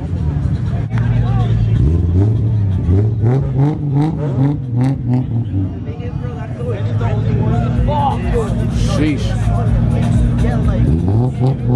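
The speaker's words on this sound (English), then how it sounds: "Every time I see this car, it's just like, damn, that car sounds so good. Has a 2J in it." A turbocharged Toyota 2JZ-engined Japanese car at a JDM car meet revs repeatedly, its engine note rising and falling close by amid loud crowd chatter and people talking.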